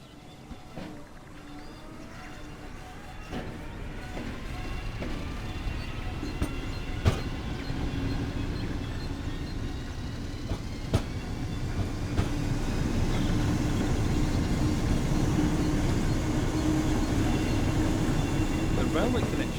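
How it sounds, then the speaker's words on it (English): An ÖBB 1020 electric locomotive, a 1940-built Austrian engine, hauls a train on the Mittenwaldbahn between Innsbruck and Garmisch-Partenkirchen in a railway simulator, with a steady rumbling run, rising whine and occasional sharp clicks from the wheels. "This train is hauled by an ÖBB 1020, first built in 1940. It is one of the oldest surviving electric locos."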